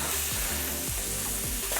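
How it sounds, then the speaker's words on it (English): Loud, continuous sizzling and crackling of skewered meat on a hot barbecue grill, close up, with a faint clatter now and then. "Let's get this sword-like one on the barbecue. Oh yeah, good sizzle."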